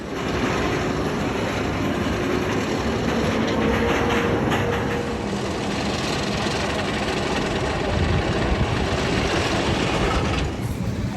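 A roller coaster's newly replaced lift motor runs with a loud, steady mechanical rumble and whine, grinding with rattling clatter throughout, no voices.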